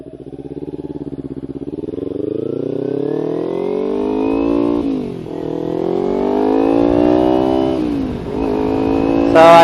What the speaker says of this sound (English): having earplugs in your, the sound of the engine's different